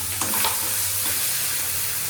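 Fish fries in a hot pan with a steady, close hiss of sizzling oil and a few faint crackles, a continuous bed of sound with no voices.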